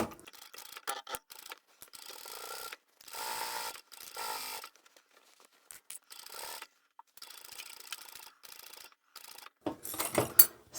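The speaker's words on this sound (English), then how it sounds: "I've sewn right up to the stitching line, and then I'll back stitch" A sewing machine stitches a seam on a large reversible tote bag, in short uneven bursts of mechanical rattling separated by brief silences, fairly quiet and with no talking.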